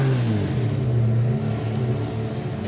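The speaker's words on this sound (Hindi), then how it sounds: "गाड़ी की आवाज।" A car engine hums and revs up close, a steady low droning rumble that shifts pitch slightly as it runs.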